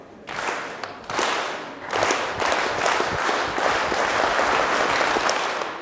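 German-speaking audience at an improvisation show clapping in unison on cue, several bursts of dense applause that swell and settle over a few seconds, fairly close and loud.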